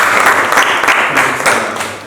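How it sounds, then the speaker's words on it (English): Schoolgirls in a chemistry classroom clap for themselves at the end of a lesson, a steady, dense patter of many hands filling the room without a break. "Can you clap for yourself?"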